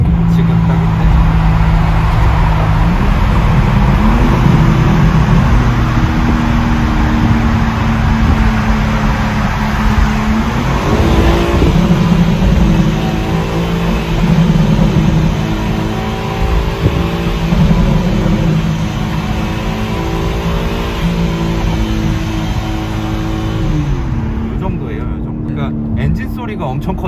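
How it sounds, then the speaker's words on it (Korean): A 2021 BMW M3 on the move, its exhaust giving a loud, continuous drone with rising and falling engine pitch as it accelerates and shifts, with people talking over it inside the car. "배기 소리를 잠깐 들어볼까요?"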